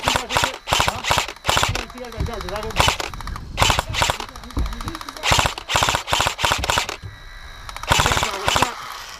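Airsoft guns fire in quick bursts of sharp cracks at an outdoor skirmish game, loud and close, with players talking and calling out between and over the volleys.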